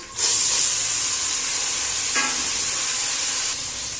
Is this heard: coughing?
no